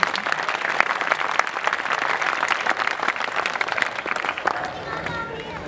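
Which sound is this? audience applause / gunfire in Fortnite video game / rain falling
audience applause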